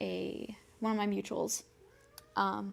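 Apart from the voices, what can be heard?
cat meowing in the background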